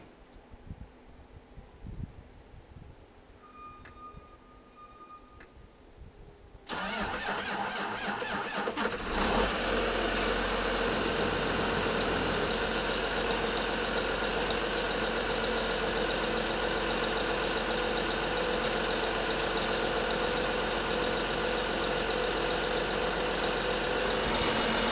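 A 9410 tractor sits quiet amid light clicks and rustles in snowy farm conditions, then its diesel cranks over and catches, settling into a loud, steady, rumbling idle that runs on without pause.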